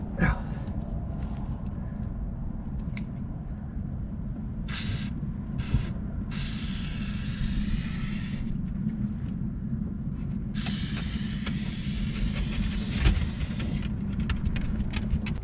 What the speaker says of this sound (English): Start putting this on, the ZINC coats.